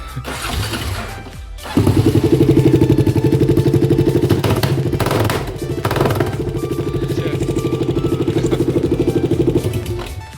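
A motorcycle fitted with only a rear damper and no full exhaust starts after a short crank, then idles loud and throbbing at close range with a steady, uneven pulse.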